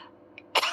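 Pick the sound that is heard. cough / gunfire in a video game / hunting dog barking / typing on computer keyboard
cough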